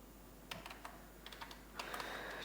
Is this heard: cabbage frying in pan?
no